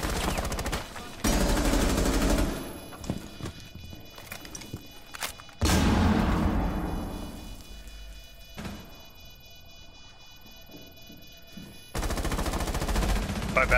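Sharp gunshots in Rainbow Six Siege on the Consulate map, loud bursts of fire in separate clusters broken by quieter gaps, with some game sounds in between.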